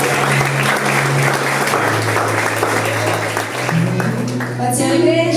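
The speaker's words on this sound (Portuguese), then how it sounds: "Recebe com palmas bem alegre para o Senhor." A church congregation claps for a young preacher at a family service, steady applause throughout under a sustained organ or keyboard chord, with a brief bright accent near the end.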